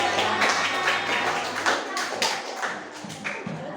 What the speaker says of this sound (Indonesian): kita beri aplaus yang lebih meriah lagi ya